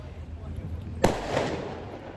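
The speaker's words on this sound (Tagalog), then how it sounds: "Oh, may fireworks!" A single sharp firework blast cracks out at New Year near a bridge in Taiwan, followed by a brief rumbling tail, with people talking around it.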